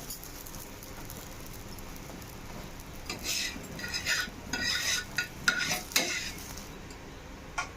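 Masala dosa being turned over on an oiled pan, a soft scrape and clatter of the spatula followed by a faint sizzle, with a few sharper metallic taps in the second half.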